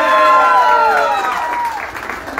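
A small group bursts into applause and cheers for a mother at a community gathering. The sound is loud and close at first, then eases slightly over a couple of seconds, with a voice calling out over it.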